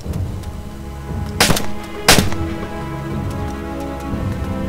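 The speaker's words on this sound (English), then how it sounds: "Somebody's firing at me!" Two loud, sharp gunshots ring out in DayZ Standalone, spaced about half a second apart over a low steady game-world rumble, with no talking.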